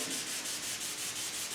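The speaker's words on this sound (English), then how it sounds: "all I want to do gently start sanding on this" Wet sanding of a clearcoat paint run with a sanding block in soapy water, a soft, steady rhythmic rubbing hiss repeating in gentle back-and-forth strokes, close and alone.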